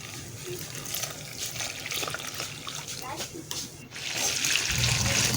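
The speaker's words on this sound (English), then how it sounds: "I'm just adding corn flour, and I'll be adding some water into it" Water trickles and pours steadily into corn flour in a pan for tuo zaafi porridge, a close, continuous splashing stream that grows slightly stronger toward the end.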